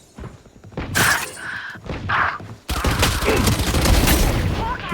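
Gunfire in a first-person shooter video game, heard as a dense, crackling stream of shots and impacts that grows into steady rapid fire in the second half, with a voice talking faintly in the background.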